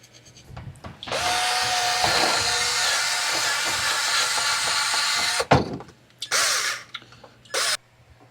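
Old RTV gasket sealant is scraped off a flat engine surface on a 50-year-old Volvo 164E, a loud, continuous harsh rasp lasting several seconds, followed by a few shorter scraping strokes with pauses between them.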